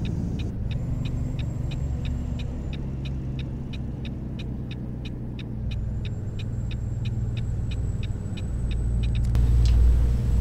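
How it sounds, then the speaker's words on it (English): A truck engine in American Truck Simulator hums at a steady low drone under a regular ticking indicator, with a shift in pitch and a swell of rumble near the end as the gears change. "I'm barely touching the gas pedal right now, and I can see the truck shifting faster"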